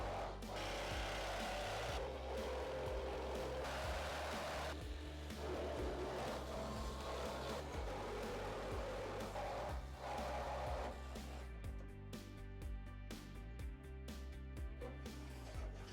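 A saw cuts a window opening in the metal side of a Sprinter van, grinding continuously and loudly throughout with a fresh blade, its tone shifting toward the end into rapid chattering strokes.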